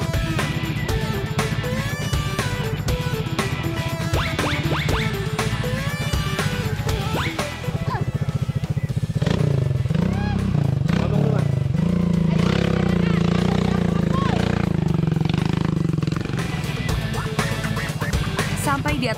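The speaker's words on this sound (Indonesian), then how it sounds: "Namanya juga motor gunung, jadi ya pasti kuat atau menahan beban." A mountain motorcycle carrying two riders drones steadily along a rough track, its engine loud and close throughout, with clattering and bumps and people talking over it.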